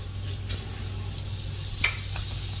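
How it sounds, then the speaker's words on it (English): Potatoes and cauliflower coated in masala and garam masala sizzle steadily in a hot pan while being gently stirred, a close, continuous frying hiss with a few soft scrapes. "give it a gentle stir"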